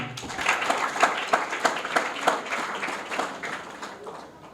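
An audience claps at an anniversary and diploma-award ceremony, a dense, steady patter of many hands with regular louder swells, fairly close, fading slightly toward the end.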